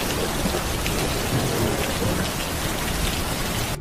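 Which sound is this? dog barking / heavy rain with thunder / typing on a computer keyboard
heavy rain with thunder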